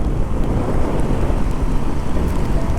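Heavy rain pours during a motorcycle ride on a tour from Chandigarh, a dense continuous roar with wind buffeting the microphone, loud and unbroken throughout.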